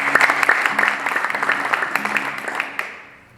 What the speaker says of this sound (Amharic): ለጌታ አጨብጭቡ።